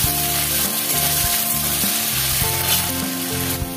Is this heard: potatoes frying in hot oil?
yes